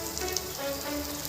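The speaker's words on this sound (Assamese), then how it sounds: "এইখিনি এতিয়া ভালদৰে ভাজি ল'ম।" Ground coriander, cumin and red chilli powders with salt frying in a pan for an Assamese sesame fish curry, giving a steady, fairly quiet sizzle and crackle with no voices.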